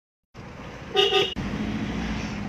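A car horn gives one short, loud honk from nearby traffic outside a showroom, cutting through a steady roar of road noise.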